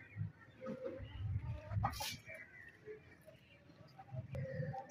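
Hens cluck and murmur steadily nearby at a village house, a low busy flock sound with a person talking over it.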